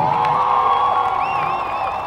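A crowd of people cheering and whooping at a lively gathering, a dense loud mass of voices with a sharp whistle or shrill shout rising near the end.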